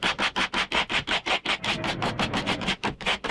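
A hand plane shaves a wooden guide edge for a homemade circular saw jig, about sixteen quick, even strokes in steady rhythm, close and moderately loud, with no talk.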